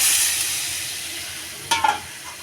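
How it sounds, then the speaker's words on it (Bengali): Spiced vegetables frying in a pan give a soft, steady hiss that slowly fades, broken near the end by a couple of brief stirring scrapes, close and quiet with no voices. "মশলা কষানো হয়েছে এখন আমি সবজিগুলি দেব সবজিগুলি ভালো করে কষায় নেব"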